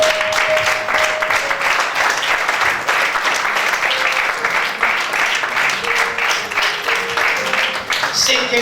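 A church congregation applauds the Lord with sustained, dense clapping across the whole stretch, loud and continuous, with brief tones and voices mixed in beneath it.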